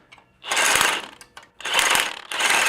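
A ratchet wrench works a bolt on a Jeep JL corner guard in close, rapid clicking bursts, three quick pulls separated by short pauses.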